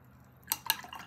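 A watercolor brush is swished in a water jar: a couple of quick, light splashy clinks close up, followed by faint trickling drips in a quiet room.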